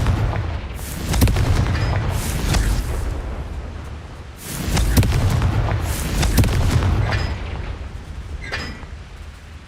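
In Hogwarts Legacy, Confringo fireball spells explode repeatedly, with heavy booming blasts and crackling bursts rolling in waves, loud and close, amid continuous battle rumble.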